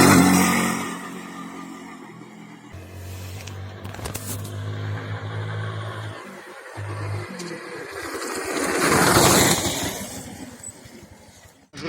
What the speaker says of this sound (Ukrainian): Поїхав боксер.